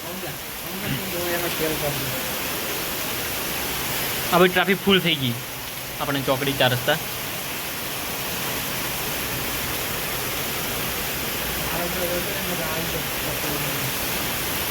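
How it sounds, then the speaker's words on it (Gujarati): Heavy rain pours down during a storm in Banaskantha, flooding the streets at a four-way crossing. A dense, steady roar fills the scene the whole time, and someone talks briefly over it. "તો વરસાદ એટલો પડે મિત્રો 10 મિનિટથી વરસાદ એટલો પડે"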